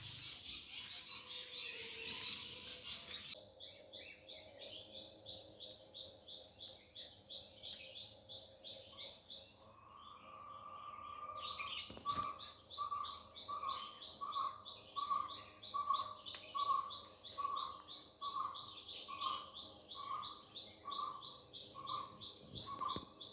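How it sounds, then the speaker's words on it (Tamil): Birds sing outdoors around a small tree holding a sparrow's nest, a long run of bright repeated chirps in a steady rhythm that pauses briefly, then returns with a second, lower call joining in. No voices are heard. "அது எல்லாமே பேர்ட்ஸோட சவுண்டு, ஒரிஜினல் சவுண்டு."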